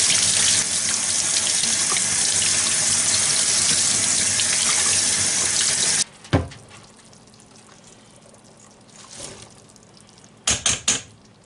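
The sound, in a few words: rinsing kidney beans in a colander under the faucet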